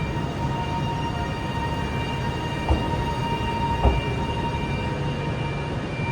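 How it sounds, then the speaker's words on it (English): Train 38109 pulls out of Glasgow Central on the West Coast Main Line, a steady low rumble with a constant tonal hum and two brief clanks from the wheels or couplings, no voices. "departing now is 38109 on her journey"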